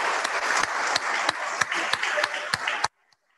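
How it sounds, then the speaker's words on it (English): A church congregation claps together in a round of applause at a Sunday parish service, steady and full for almost three seconds before stopping abruptly into silence. "I should give Alan and Jean a round of applause for all that they have given of themselves to us over the years."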